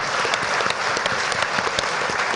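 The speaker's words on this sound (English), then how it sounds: "could we have a big round of applause for Sarah, who asked the question?" Loud, dense applause from an audience at a national housing hustings debate, a sustained burst of many hands clapping with no talking over it.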